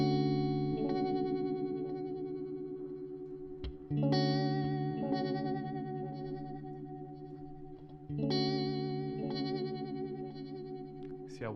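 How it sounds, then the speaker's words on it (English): Axe-Fx III guitar delay with a modulation sweep, producing shimmery, wide, chorus-like guitar chords; three strummed chords ring out at roughly four-second intervals, each decaying under warbling echoes, loud and close with no talking. "Hear that shimmery kind of feel when it's at 10 hertz?"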